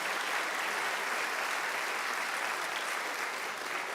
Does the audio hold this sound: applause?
yes